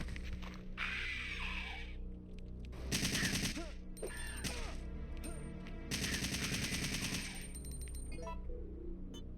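Gunfire from the Resident Evil video game: bursts of rapid shots in clustered volleys, separated by quieter stretches, with game sounds and a voice talking around them.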